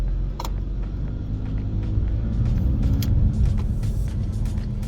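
A VW MK6 Passat TDI, diesel with an eco tune, rolls slowly along a street with a steady low engine rumble and road noise, heard from inside the car, with a few faint clicks and knocks.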